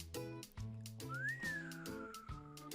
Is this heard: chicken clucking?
no